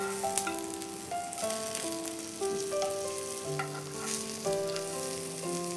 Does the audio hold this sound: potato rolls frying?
yes